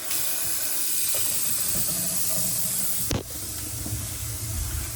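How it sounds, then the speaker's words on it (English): Water runs steadily from a newly installed bathroom faucet into the sink, a continuous close hiss with a brief bump partway through and a slightly quieter flow after. "Last step is just to turn on the water"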